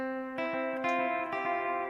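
A short electric guitar figure of clear, sustained notes picked one after another in a steady pattern, played alone, down an octave.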